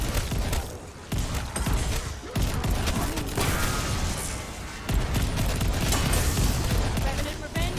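Rapid, loud shotgun blasts from the Gracie in Call of Duty: Vanguard Zombies follow one another amid dense, chaotic combat noise, with a voice briefly talking beneath the shooting.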